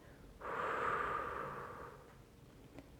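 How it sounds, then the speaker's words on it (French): A single long, soft exhale through the mouth during a French dynamic relaxation exercise, a breathy rush lasting about a second and a half that fades gently into quiet. "Puis soufflez par la bouche en laissant votre ventre s'abaisser."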